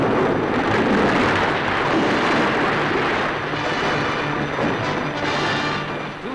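A torpedo strikes a Japanese merchant ship at sea in wartime, a loud sustained rumbling blast of explosion noise that fills the whole stretch, broad and dense, easing slightly toward the end.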